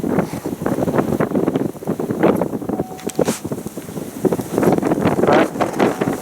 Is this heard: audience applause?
no